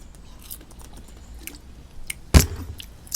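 Someone eats fried chicken and fries up close, with soft, quiet chewing and a single loud, crisp crunch of a bite partway through. No one speaks.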